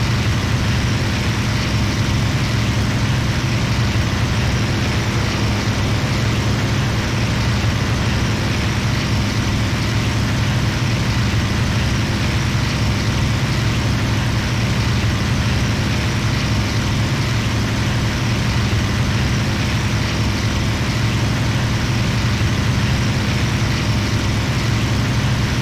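A Spitfire aircraft engine drones in the IL-2 flight game, a loud, steady, low rumbling roar that holds without pause the whole time and has no talking over it.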